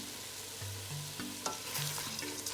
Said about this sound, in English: I like to fry the rice up